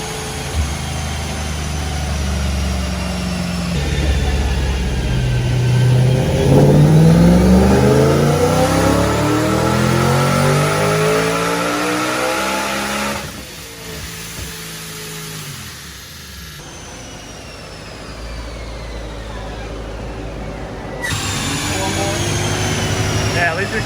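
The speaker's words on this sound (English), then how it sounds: "the next car up is actually a supercharged M3, and I'm really curious to see how much power this makes" A supercharged BMW M3 revs hard on an all-wheel-drive Dynojet dyno, engine pitch climbing steadily to a loud roaring peak, then dropping back and rising again, close and dominant with faint talk.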